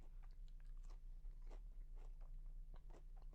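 Crisp crunching bites on a fried pickle, close up, with several loud crackles as it is chewed over a low steady hum.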